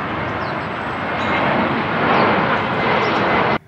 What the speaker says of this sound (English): there's been planes cruising around for hours now